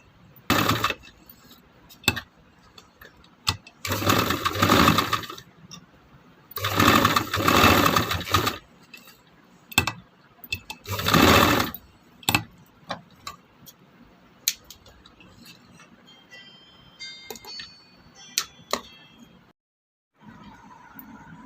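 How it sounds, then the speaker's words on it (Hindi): A sewing machine stitches elastic onto a fabric face mask, with several loud bursts of running stitches broken by pauses, and lighter handling and clicking sounds in between. "इलास्टिक को हम इसके अंदर इस तरह से फिक्स कर देंगे दोनों सिरों पर और इसके ऊपर सिलाई लगा लेंगे"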